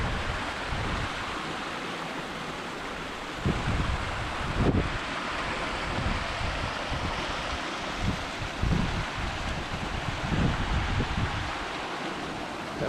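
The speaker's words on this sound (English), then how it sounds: "just check out the way the water comes down the side of these rocks" Water pours down rocks on a heather-covered Scottish hillside beside a country road, a steady broadband rush with gusts of wind noise buffeting the microphone and a few louder surges, continuous throughout with no one talking.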